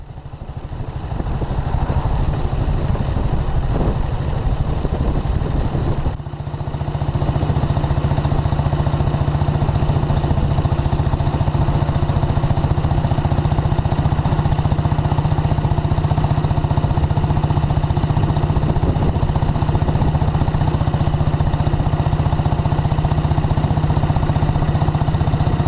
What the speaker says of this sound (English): The town of Royston in Hertfordshire is negotiated at 30 mph in the third top gear. At very low revs for the laziest ride on level going.